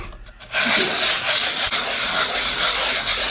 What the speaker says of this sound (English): you need to sand it